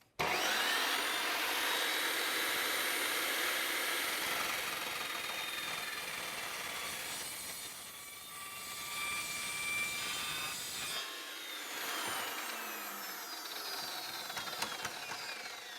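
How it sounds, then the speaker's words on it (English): Power saw cutting through a wooden chassis frame rail, a loud continuous whining buzz that holds steady, dips mid-cut, then rises again toward the end of the cut. "this saw does make more of a mess than the other one"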